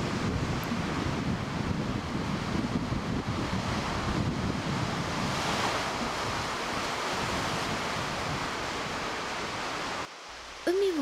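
Continuous roar of ocean waves breaking at the seaside on a calm, sunny day, loud and close with steady wind-blown surf, cutting off abruptly near the end into quieter background.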